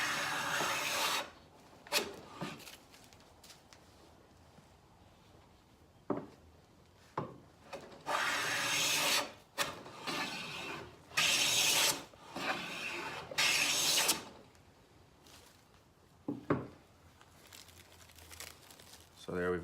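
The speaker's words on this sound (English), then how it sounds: "for this edge, I'll use my hand plane, and we'll go a few times until we get one nice clean continuous shaving" Hand plane shaving along the edge of a wooden barn door, a series of repeated rasping strokes of varying length with pauses between, close and clear.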